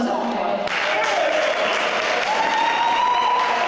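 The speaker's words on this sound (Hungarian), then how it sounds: "A házigazdáké volt a legnagyobb taps a Puskás Szakképzőiskola ebédlőjében" Hearty applause fills a vocational school dining hall during a railway pensioners' club jubilee celebration, steady clapping throughout with talk running over it.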